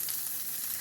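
Eggs frying in a pan for a breakfast scramble, a brief faint hiss of sizzling, steady and quiet, with no voices.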